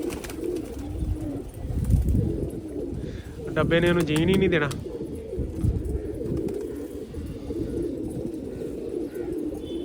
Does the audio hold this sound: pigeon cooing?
yes